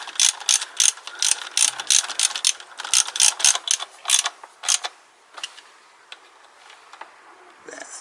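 Ratchet clicking in quick bursts as a screw is snugged down on the drive of a Piaggio scooter with a Leader engine, close and crisp, then tapering off into a few scattered clicks.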